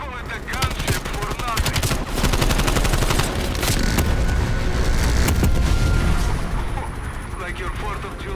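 Sustained heavy machine-gun fire from a gunship in Call of Duty Black Ops Cold War, a loud dense roar of rapid shots and booming impacts running almost the whole time.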